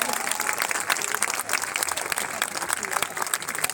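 Crowd clapping at a political rally with a politician, a sustained, crackling wave of applause with a voice speaking over it throughout.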